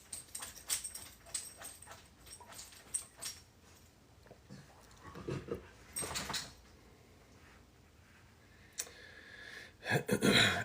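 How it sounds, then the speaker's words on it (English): A dog with allergies scratches itself, its tags jangling in quick metallic bursts, near and intermittent, with scuffling and a louder rattle toward the end against a quiet room. "You hear that jangling? It's my dog with his allergies scratching."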